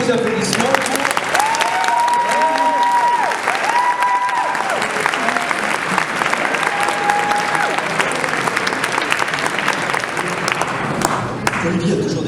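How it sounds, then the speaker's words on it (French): A live game show crowd at the Gamagora Game Show 2015 breaks into loud, sustained applause, a close, dense clatter of hands with voices calling out and talking over it the whole time. "Sous vos applaudissements"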